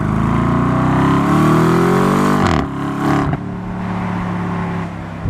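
BMW M850i driven hard on canyon roads: a loud, close engine climbs steadily in pitch under acceleration, drops sharply on a shift, surges briefly, then settles into a lower cruising drone, with no talking.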